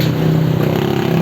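An old motorcycle passing in traffic gives a brief, steady engine drone with a buzzing low hum, close and fairly loud, lasting just over a second.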